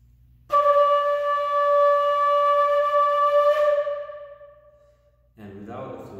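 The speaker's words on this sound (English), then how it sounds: "So if you make a sound on the flute, it sounds like this." A single sustained flute note rings clear and steady for about three seconds before fading, followed by a brief burst of soft breathy noise.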